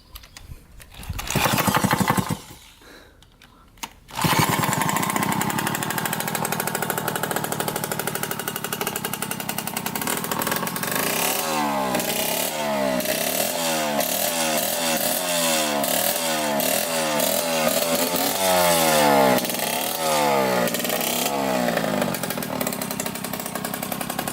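A Yamaha YSR motorcycle engine cranks with a brief sputter, pauses, then catches and runs continuously with a buzzy, rattling two-stroke-like idle and revving that rises and falls, loud and close throughout.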